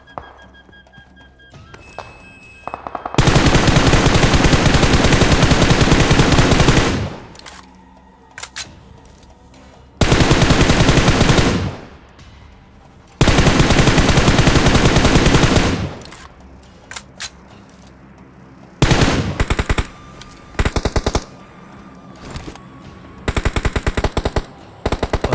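Loud bursts of automatic gunfire from a battle royale game firefight, coming in several long sustained volleys separated by short pauses, with a few scattered single shots near the end.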